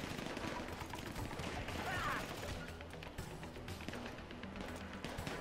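Gunfire in Grand Theft Auto V, a dense, steady barrage of shots filling the whole stretch without a break, loud and close, with an occasional voice underneath.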